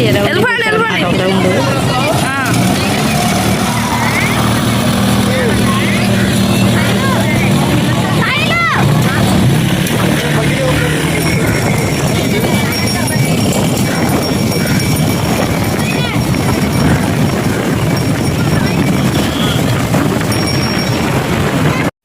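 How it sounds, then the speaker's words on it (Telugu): Strong wind roars and buffets continuously at Machilipatnam beach, a loud, steady broadband rush lasting throughout, with a babble of voices and some passing traffic underneath. "ఒకటే గాలి శబ్దం విన్నారా మీరు, ఫుల్ గాలి వస్తుంది"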